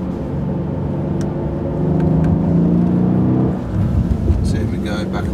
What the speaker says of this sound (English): So here we go, back on the gas again.